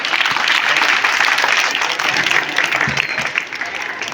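Loud audience applause at a school free-admission event, dense crowd clapping that holds steady for a few seconds and tapers slightly toward the end.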